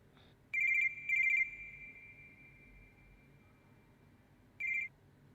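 A telephone rings indoors, two short electronic trilling bursts close together, then a long fading tone and a final brief burst, all fairly quiet against a low room hiss with no talking.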